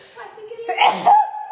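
A single sneeze bursts out in a kitchen while people chat about baking Christmas puddings, a short sharp broadband burst over ongoing conversation.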